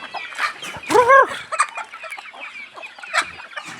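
Backyard chickens cluck and squawk up close, with one loud rising call near the start and scattered shorter clucks after, no talking.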